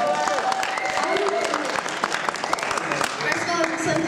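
Audience applause at a school music festival, a loud, close burst of clapping and crowd noise mixed with scattered voices and cheers over about four seconds.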